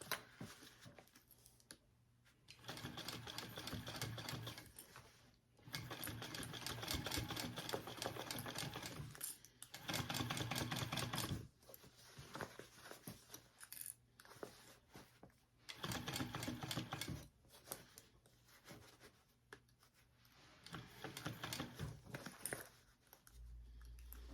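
Sewing machine stitching the lining of a crossbody bag, running in several bursts of rapid steady stitching separated by short pauses, close and fairly quiet.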